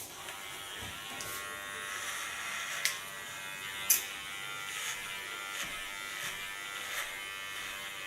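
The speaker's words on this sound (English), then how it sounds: "I can comb into the hairs with my clipper" An electric hair clipper buzzes steadily while cutting an ultra-short boyish haircut, with a constant close hum and a few brief clicks and small bumps from handling.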